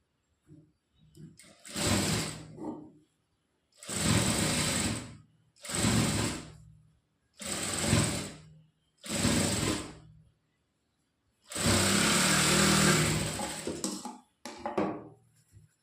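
A sewing machine stitches a strip of fabric, running in six separate bursts of a few seconds each with short pauses between, close and steady, no talking.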